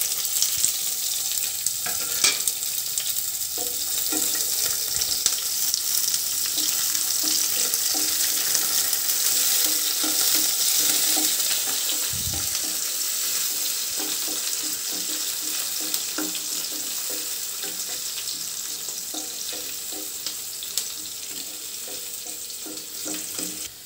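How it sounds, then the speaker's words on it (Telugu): Onions and tempering spices fry in hot oil for a brinjal curry, a steady loud sizzle and crackle lasting the whole time with an occasional stir or clink and no talking. "ఆనియన్స్, పోపు దినుసులు యాడ్ చేసుకొని వేగనివ్వాలి."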